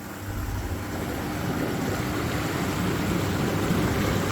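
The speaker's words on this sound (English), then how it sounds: "Now what I'll also do right now is I will switch on the blower." A hot tub spa air blower on a Maax five-seater runs with a steady, broad rushing roar like churning air and water, holding constant and slightly building, with no talk.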